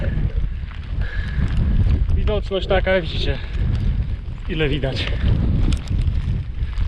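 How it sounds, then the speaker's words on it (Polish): Strong wind buffeting the microphone on an exposed mountain ascent in rain, a steady loud low roar throughout, with someone talking over it in short phrases. "jesteśmy bardzo wyeksponowani na no deszcz i na wiatr teraz"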